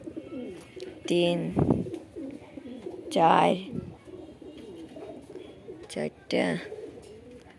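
Pigeons coo repeatedly inside a pigeon loft, close and fairly loud, with a voice talking over and between the calls.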